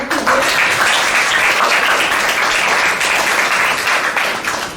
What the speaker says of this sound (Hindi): सबको एक बार तालियों से उनका स्वागत कीजिए।